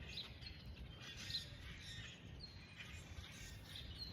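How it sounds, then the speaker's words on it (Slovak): Small birds chirping outdoors in early spring with melting snow around, a few faint high tweets scattered over soft steady background noise, distant and quiet. "A počujete tie vtáčiky?"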